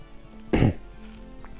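A man lets out a single short, rough cough from a persistent, months-long cough, close to the microphone against a quiet room.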